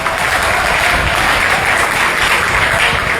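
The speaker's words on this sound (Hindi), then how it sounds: "अरे जोर से ताली तो बजाओ" An audience at an anti-drug awareness event for young people in India claps loudly, a dense continuous applause close by throughout.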